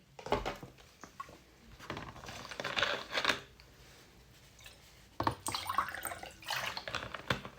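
Water is poured and splashed into a wine glass in short, uneven bursts of trickling and clinking, with quiet gaps between them.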